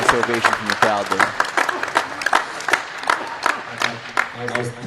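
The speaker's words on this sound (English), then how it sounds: "a nice ovation from the crowd there" Crowd ovation at a college men's tennis match, Middle Tennessee against Alabama A&M: clapping and scattered cheers from spectators, with an announcer's voice running over the applause throughout.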